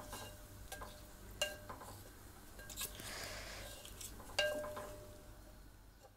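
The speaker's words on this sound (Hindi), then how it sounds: "इसको भूनेंगे हम" Vinegar-marinated boneless beef frying in a pan for beef handi, a faint continuous sizzle with occasional sharp clinks and a stir near the end, heard close and quiet with no talking.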